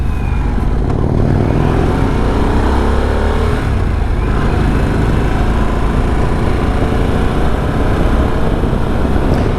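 A 2024 Harley-Davidson Sportster S RH1250S being ridden, its engine a loud, continuous rumble with heavy wind buffeting throughout, holding a steady pace with no sharp revving.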